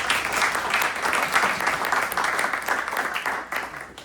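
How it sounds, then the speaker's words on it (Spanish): An audience claps for two presenters before a talk begins, a full, continuous burst of applause that stays strong and then begins tapering off near the end. "un aplauso para ellos"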